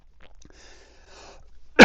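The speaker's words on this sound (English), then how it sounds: "Let me just cough real quick after that buildup" A single loud, abrupt cough bursts out at the very end, following a stretch of quiet, indistinct talking.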